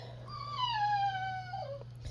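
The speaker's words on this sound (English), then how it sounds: "If you hear whining in the background, that is our Old English Bulldog who is throwing a fit" An Old English Bulldog whines in one long, slightly falling cry lasting about two seconds, set against a steady low electrical hum.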